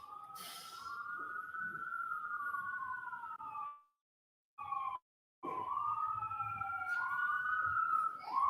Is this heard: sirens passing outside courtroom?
yes